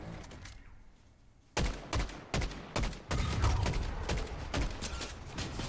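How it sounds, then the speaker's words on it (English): Fortnite gunfire: a quiet lull, then a rapid burst of loud, close shots in quick succession, followed by dense continuous firing and clattering that carries to the end. "there's some shots coming from behind us there"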